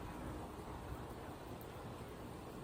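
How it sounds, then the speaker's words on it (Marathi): Heavy rain pours steadily as a dense, even wash of noise, close and constant from start to end, with no voices. "लय पाऊस झालाय आता"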